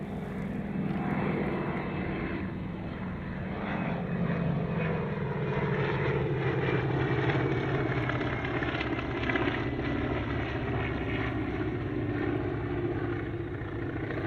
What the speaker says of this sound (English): In the lead is Paul Bennett Airshow's CA3 Wirraway Mark II, followed by the Caboolture Warplane Museum's CA16 Wirraway Mark III.